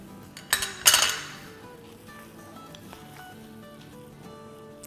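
A spoon clinks against a bowl as ingredients, including dry mango powder and chopped coriander, are stirred together: a few sharp metallic taps near the start, then softer scraping and stirring.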